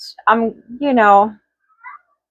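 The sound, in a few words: cat meowing loudly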